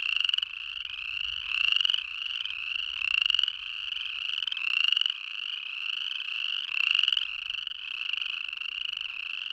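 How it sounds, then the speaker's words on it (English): Chorus frogs in Yellowstone call together in a dense, intense chorus of rising trilled creaks, overlapping in pulsing waves that swell and fade, loud and continuous with no voices. "Sometimes the frogs will chorus from April all the way into July. And when they really get going, the sound can be intense"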